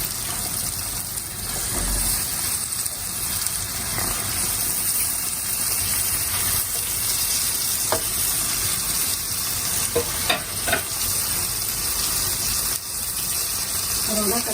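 Chicken fries in masala for a chicken gravy, giving a loud, continuous sizzle close up, broken by occasional scraping stirs.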